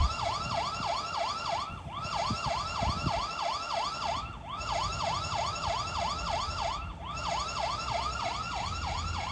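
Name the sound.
siren alarm from a solar security camera's siren mode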